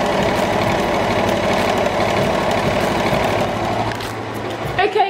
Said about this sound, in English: so that was Dad doing his sewing